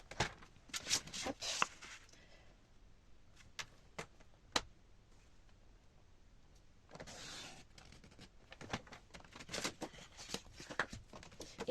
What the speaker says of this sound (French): je vais d'abord couper cette carte